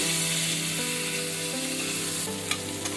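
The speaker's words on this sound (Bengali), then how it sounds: "এবারে বেগুনগুলোকে আমি ভেজে নিব।" Eggplant pieces frying in hot oil, a loud continuous sizzle with crackling pops, close and steady without any talk.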